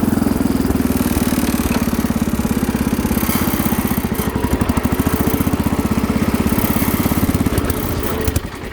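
A Sears Suburban 12 garden tractor engine is held at high revs, its loud, continuous drone pulsing unevenly and running rough close by, then easing slightly at the very end.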